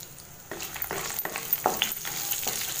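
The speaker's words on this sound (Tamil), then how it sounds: "இது ஒரு 2 நிமிஷம் வதங்கட்டும்." Garlic, ginger, green chilies and curry leaves sauté in a pan, a steady crackling sizzle under a few sharp stirring scrapes, close by with no talk.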